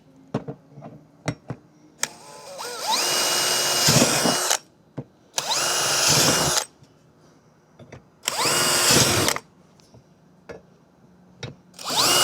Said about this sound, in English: that means I'll be drilling all brand new holes